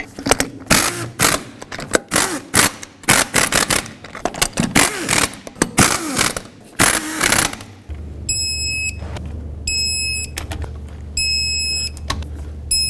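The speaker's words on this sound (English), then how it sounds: "Reinstall all 5 of your lug nuts, snug them up, and torque them to 100 foot-pounds." Lug nuts are tightened on a rear wheel of a 1998-2011 Ford Ranger, heard as loud, rapid rattling bursts up close, followed by a steady hum with repeated electronic beeps.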